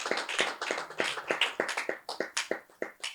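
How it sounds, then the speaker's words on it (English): An audience at a church session claps briefly, a scattered flurry of individual hand claps at close range, uneven and thinning toward the end. "So clap for her again."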